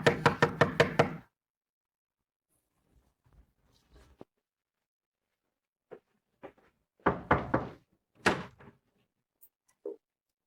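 Knocking on a door opens with a quick run of about six sharp raps, followed by quiet and scattered thumps, then a couple more loud knock bursts later on, fairly close and with no voices.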